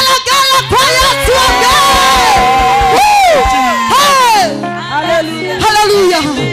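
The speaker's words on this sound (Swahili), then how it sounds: "Shangwe na vigelegele kwa Yesu." A church congregation at a Sunday commissioning service cheers and ululates loudly for Jesus, with high, wavering trills and shouts overlapping in sustained, close waves.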